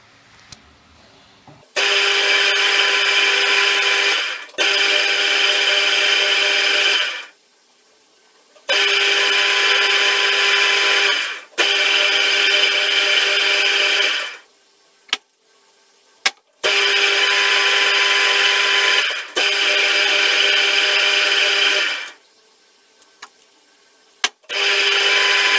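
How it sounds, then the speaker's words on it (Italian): A power tool whines steadily in long runs while cutting a keyway and a thread for a retaining bolt, stopping and restarting about every few seconds with short quiet gaps and clicks between runs, loud and close. "adesso andiamo a farci la chiavetta e il filetto per il bullone di fermo"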